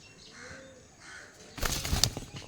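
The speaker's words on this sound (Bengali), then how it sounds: "প্রচণ্ড ভীতু পায়রাগুলো" Frightened pigeons, a Punjabi breed, suddenly burst into loud wing flapping near the end, after a quiet stretch with soft cooing or ambient sounds.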